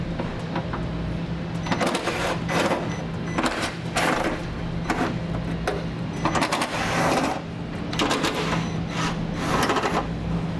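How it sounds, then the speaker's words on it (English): An 8mm socket wrench removes bolts under a 2013 BMW 3 Series during a trailer hitch installation, giving rapid, continuous ratcheting clicks in close bursts. "I'm going to grab an 8mm socket and I'm going to remove those bolts."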